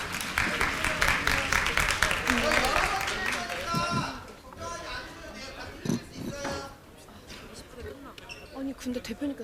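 Audience at a university student leadership academy lecture claps loudly and steadily for several seconds, then the applause thins out as an announcer speaks over the room.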